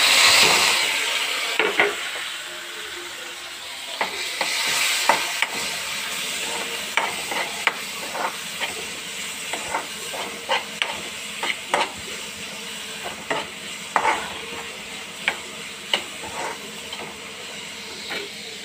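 Chopped onion, tomato and green chillies fry and sizzle in a pan under a steady hiss, while repeated sharp scraping clicks from a spoon stirring the mixture come through close by, with no talking.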